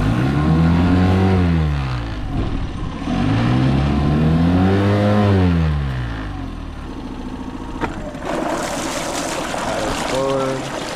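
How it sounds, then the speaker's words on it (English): A broken outboard motor bought to be fixed is revved in neutral with the throttle pushed in, rising and falling in two strong swells, then idling with water trickling while people talk. "if you push this in right here, you can give it throttle without putting it in gear."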